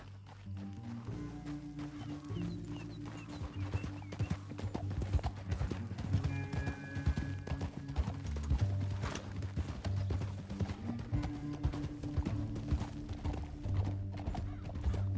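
Rapid hoofbeats of a galloping horse in Red Dead Redemption 2 pound continuously over a low rumbling backdrop, with an occasional whinny; no talking.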